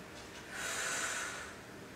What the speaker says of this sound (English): Take a big inhale. Exhale.